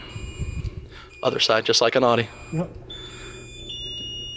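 Alarm of a Lamborghini Murcielago LP650-4 supercar sounding as steady high beeping tones, mostly after a stretch of close conversation, with people talking over the start.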